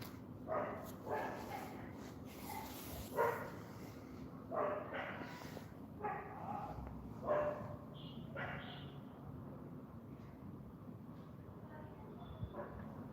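Dogs bark and howl at night in a string of repeated calls spread through the quiet, some nearer and some more distant, over a low steady background hum.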